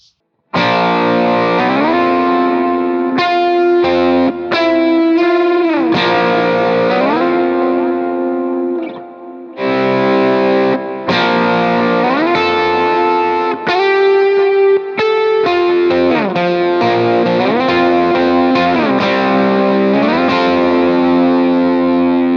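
Slide guitar with a distorted, chorus-tinged electric tone plays the intro of the hymn "His Mercy Is More" with the index finger barred, sliding notes and ringing chords, loud and continuous with a brief dip midway.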